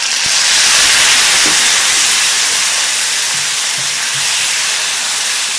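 Water is added to okra sautéing in a hot pan, setting off a loud, sustained steam hiss that fills the whole stretch, with faint crackling beneath it and no talking.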